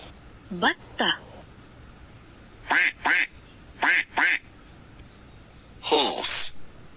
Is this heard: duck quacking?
yes